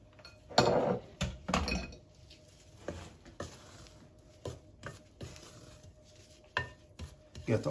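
Coconut being mixed into orange sponge cake batter in a bowl, with irregular clinks and scrapes of a utensil against the bowl and soft patting thuds, in uneven bursts with quiet gaps.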